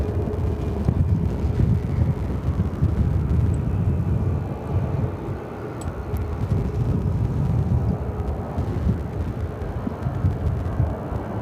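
Strong wind blowing across the apron at Phoenix Sky Harbor airport as a weather front moves in, a steady loud rumbling roar buffeting the microphone throughout with no pauses.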